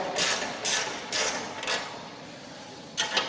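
A spanner works 17mm bolts loose on a Chapman ATV flail mower, giving a handful of short metallic ratcheting bursts, close and fairly loud, with gaps between them and a final double click.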